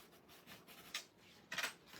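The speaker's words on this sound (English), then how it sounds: "I'm just going to flip this over and kind of rub it from the back side" Paper rubbed by hand from its back side during a craft session, a faint, soft dry scuffing in a few short strokes, quiet and close with no talking.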